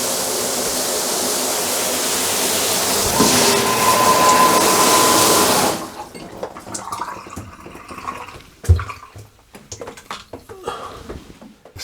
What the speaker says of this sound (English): Sprayed water on all the sides and nothing comes through, no leaks.